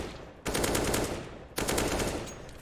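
Rapid automatic gunfire from a first-person shooter video game comes in two sustained bursts separated by a short pause, dense and fairly loud.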